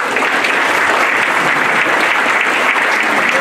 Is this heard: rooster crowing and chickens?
no